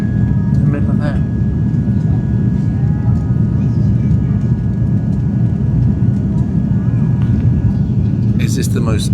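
A passenger airplane lands at a scenic airport, heard from inside the cabin as a loud, steady engine and wind roar that continues without a break, with a brief voice near the start.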